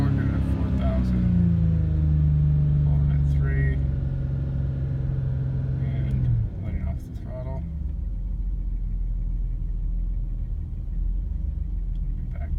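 A 1990 BMW 735il engine revs at half throttle up to 4000 rpm, its tone rising and holding for several seconds before dropping back to a lower idle rumble, with speech over it.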